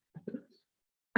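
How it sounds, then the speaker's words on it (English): A person coughs once, a short sharp burst near the end, after a moment of faint breathy vocal sounds in a quiet indoor setting. "I'm coughing."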